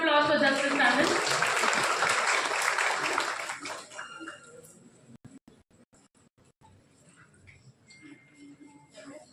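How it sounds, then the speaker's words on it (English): Applause from the audience at a college law conference, loud dense clapping for about four seconds that fades into scattered individual claps with faint background murmur. "Everyone, a big round of applause for Justice Tandon."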